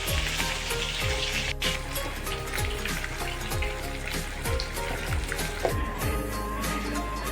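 Fish pieces frying in hot mustard oil for an Odia fish curry, a dense, steady sizzle with repeated crackling pops as the fish is flipped and stirred in the pan, and no talking.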